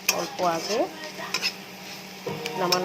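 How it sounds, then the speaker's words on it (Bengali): Soybeans fry in oil in a wok while a utensil stirs them, giving repeated scraping strokes and metallic clinks over a soft sizzle, close and fairly quiet. "সোয়াবিনে এরকম ভাজবে, তাহলে কড়াইটা একদমই পুড়বে না"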